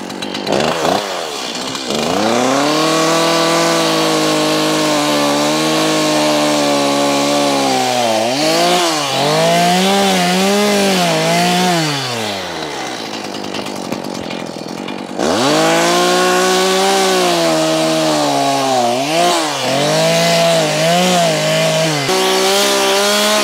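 A Stihl MS-170, a small chainsaw, cuts through wood for a garden room base, its engine loud and close, holding steady revs that rise and fall as the bar bites, with a brief dip midway before cutting resumes.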